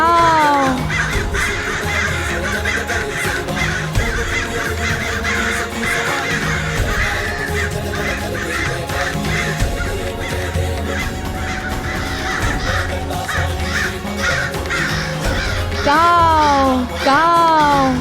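A voice imitates a crow's harsh cawing in a mythological drama scene, with repeated rising-and-falling caws over a steady bed of music, loudest near the end.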